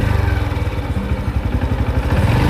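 A food-delivery motorcycle with no working headlight, its engine running close by at night with a steady, pulsing putter and light clatter throughout.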